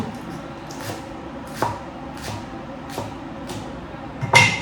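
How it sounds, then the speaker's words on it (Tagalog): A knife chops through bok choy on a cutting board in a steady rhythm of crisp strokes, about one every second, close by. "So, hinihiwa ko na yung pichay."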